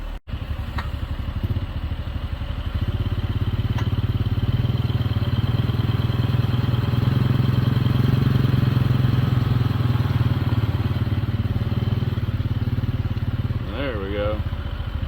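A Jeep Gladiator EcoDiesel's engine revs steadily in four-wheel drive while the truck is stuck off-road, a loud continuous drone with a brief strain near the end.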